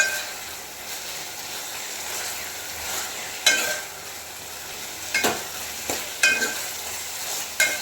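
Tomato, onion and green chili frying in a pan for an egg masala gravy, a steady soft sizzle broken by several sharp scrapes and clinks of a spoon stirring, no talking.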